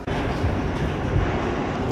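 A New York subway train rides at close range, with a loud, dense roar and rattling wheel noise that holds steady the whole time, with no voices over it.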